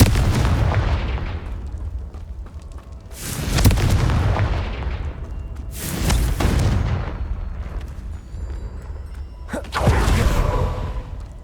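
In Hogwarts Legacy, the Confringo blasting spell sets off several loud booming explosions, each hitting hard and then fading into a long rumbling tail, spaced a few seconds apart. The last one has a crackling burst.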